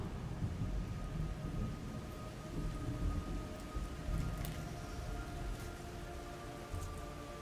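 Steady rain hisses and patters on surfaces in Metal Gear Solid Delta: Snake Eater, with low rumbling thunder rolling beneath it throughout and no voices.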